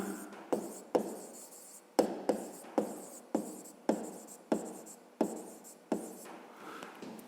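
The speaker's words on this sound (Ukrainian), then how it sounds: "Отже, пишемо розв'язання." Pen or chalk writing out a math solution, a series of sharp taps and short scratchy strokes in an irregular rhythm, close and fairly faint with no speech.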